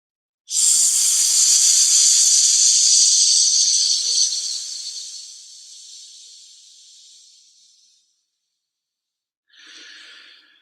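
A long, loud exhaled hiss of a Taoist healing sound breathed out through the teeth, fading gradually over several seconds, followed after a pause by a shorter, softer hissing breath.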